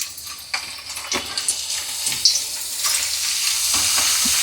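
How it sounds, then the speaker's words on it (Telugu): Potato chips, made from curry potatoes, crackle and sizzle in hot oil, with bursts of bubbling and stirring that build into a dense, continuous hiss. "ఇప్పుడు మనము చిప్స్లు వేసుకుందామండి"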